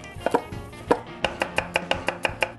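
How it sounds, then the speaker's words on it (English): A kitchen knife chops a bell pepper on a cutting board: about a dozen crisp, close knocks, a few scattered at first and then settling into an even, brisk rhythm, with no talk. "I'll start cutting the pepper"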